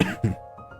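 A couple of short, harsh coughs up close, the second one louder, followed by quiet room noise.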